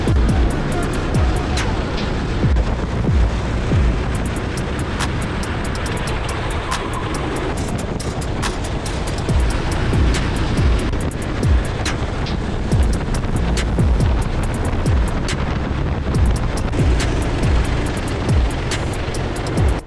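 Race cars lapping during a long endurance race at Biganos, engine whine loud and continuous with repeated sharp pulses and passing surges, heard from close by with no talk.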